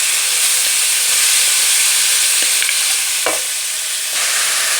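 Petha roasting in a pan over full flame with cardamom makes a loud, dense, hissing sizzle throughout, with a few brief clinks and stirring scrapes.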